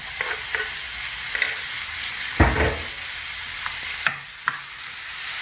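Tomato added to a frying pan with softened onion, a loud steady sizzle with spoon scrapes and a few clacks against the pan as it is stirred.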